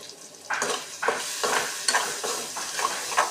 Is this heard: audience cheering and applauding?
no